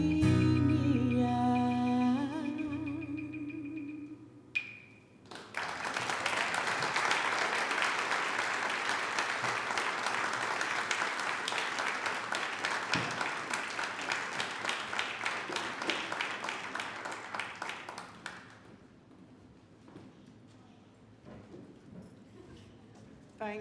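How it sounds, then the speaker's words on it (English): An audience breaks into sustained applause for a singer at an event, a dense, steady round of clapping after the closing notes of a sung phrase that slowly thins out and fades toward the end. "Can we have another round of applause for her"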